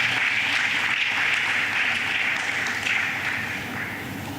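A conference audience at a diabetes management event in Jamaica applauds steadily, a continuous wash of clapping that holds evenly and then tapers slightly near the end.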